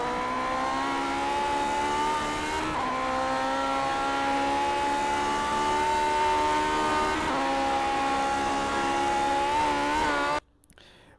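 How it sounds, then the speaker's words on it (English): A Lotus 49 race car engine in iRacing's Grand Prix Legends drones at high revs for a long stretch at Bathurst, pitch rising and dipping with gear changes, then cutting off abruptly near the end. "you can hear the revs rising, the car bouncing"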